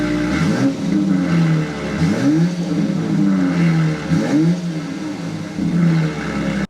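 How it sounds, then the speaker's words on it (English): A 2025 BMW X3 M50 with its B58 engine running steadily, its exhaust note droning close by with repeated rising revs and short blips, and no voices over it. "start it up, so you can hear the B58 exhaust note"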